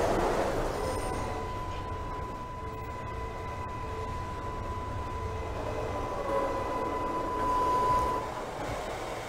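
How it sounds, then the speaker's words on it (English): A New York City subway J local train runs along the track, simulated in Trainz Simulator 2012: a steady rumbling roar of wheels and motors with a faint tonal whine, continuous and even for several seconds. "This is a Queens-bound J local train."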